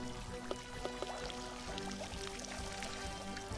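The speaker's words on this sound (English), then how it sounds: "Oh, there's another pond. With another waterfall." A waterfall pours into a pond in the video game Golf It, a steady soft stream of splashing water heard faintly with small drips.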